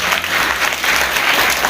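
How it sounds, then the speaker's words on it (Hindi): Loud, close applause at a school farewell ceremony for staff, a brief dense burst of clapping with no talk. "एक बार जोरदार तालियां।"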